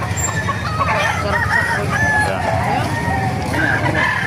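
Roosters, including a Kelso gamecock, crow and chickens cluck over a busy, noisy chicken market background in Baliuag, Bulacan, several calls overlapping throughout.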